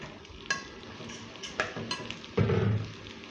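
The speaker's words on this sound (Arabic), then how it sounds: "واديله تقلبه كده" Washed, drained basmati rice being stirred with softened onions and oil in a pot, a spoon scraping and knocking against the metal in a few distinct strokes over a faint sizzle, close by.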